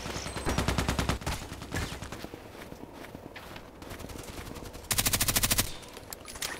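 Bursts of suppressed Vintorez rifle fire in an online shooter video game, with rapid rhythmic volleys at the start and a sharper burst near the end, set among footsteps and quieter game ambience.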